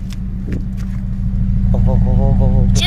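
A car exhaust rumbles steadily with a deep, throbbing low tone, growing louder partway through, while a voice imitates it with rapid repeated syllables.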